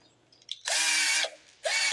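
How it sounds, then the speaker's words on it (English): A power drill turns over the engine of a 1982 Snapper Hi-Vac left abandoned for years, whirring loudly in two bursts, the first about half a second, the second after a short pause, with a grinding, ratcheting edge. "wheel her over with the drill."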